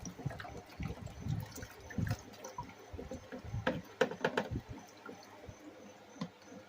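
Hydrogen peroxide solution pours from a container into another vessel as soft, uneven splashing and gurgling, close and fairly faint, with irregular bursts of liquid.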